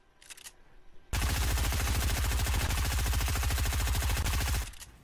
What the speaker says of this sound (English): your gun was shooting while you were reloading